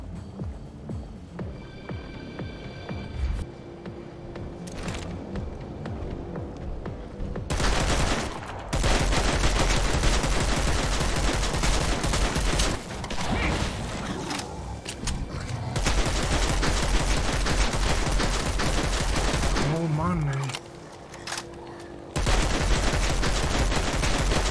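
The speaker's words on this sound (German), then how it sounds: "Dann knallen wir die ab" Sustained bursts of rapid gunfire in the video game Dead Island 2, loud and dense, with brief pauses between volleys and a low throbbing background throughout.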